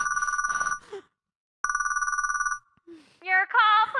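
An old-fashioned telephone bell rings in two long trilling bursts with a pause between, followed by a short tonal signal sequence, in a radio drama setting with someone talking around it.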